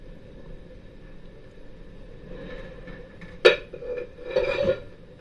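A spoon stirs a chia seed and lemon water drink in a glass, clinking sharply once and then rattling in a short cluster of taps against a quiet background.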